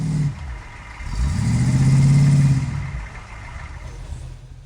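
A wrecker tow truck with a new motor powers through sand to get behind a broken-down Blazer, its engine surging loudly in a low drawn-out roar for a couple of seconds before easing back to a rumble.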